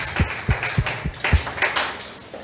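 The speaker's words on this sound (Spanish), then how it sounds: "Fuertes aplausos al Señor" Several sharp claps ring out in a church, spaced unevenly at first and then a looser patter, with a roomy echo and no voices.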